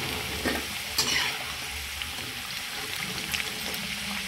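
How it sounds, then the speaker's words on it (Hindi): Potatoes fry in hot oil in a pan while they are stirred and lifted out, giving a steady close sizzle with a few brief scraping clinks and no talk. "तो इसी तरह हम अब आलू फ्राई करके निकाले ले रहे हैं"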